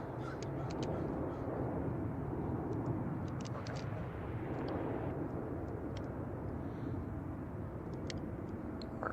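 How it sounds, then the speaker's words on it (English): A JetBlue airliner at San Francisco Airport gives a steady, loud, broadband jet roar that holds for the full stretch without fading, with brief faint chirps or caws ticking above it. "All right, let's get our JetBlue aircraft here."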